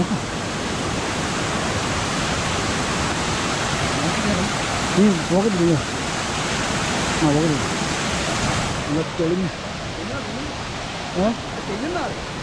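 A hidden waterfall in Kerala roars with rushing water, a loud, steady broadband wash that fills the whole span, while people talk intermittently over it.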